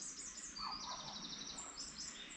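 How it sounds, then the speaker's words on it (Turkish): Several small birds sing and chirp in high, thin trills, fairly faint and distant over quiet outdoor ambience. "Kuş sesleri bak duyuluyor hala bu havada bile."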